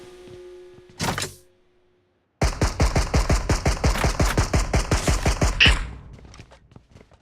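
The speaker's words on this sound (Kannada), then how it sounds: "ಗನ್ ಟೆಸ್ಟ್ ಮಾಡ್ತಿದ್ದೆ." A gun is test-fired in the mobile battle-royale game BGMI: one short burst, a pause, then a long rapid automatic volley of about twenty close, loud shots in an even rhythm before it stops.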